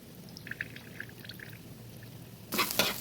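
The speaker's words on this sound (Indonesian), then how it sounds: "Nah, ini tunanya akan saya buka dulu. Kemudian airnya akan saya tumpah." Water from an opened tuna can pours out in a brief splashing gush near the end, after faint kitchen ticks and clinks.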